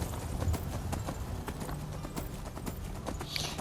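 A horse's hooves clip-clop in the video game Skyrim, a quick rhythmic trotting patter of muffled thuds at close range, steady and unbroken over a low background hum.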